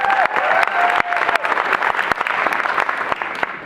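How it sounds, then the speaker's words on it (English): A comedy show crowd applauds for Joe, a loud, close burst of sustained clapping with a few sharp individual claps, light cheering and a brief voice near the start. "If we could just give him a round of applause."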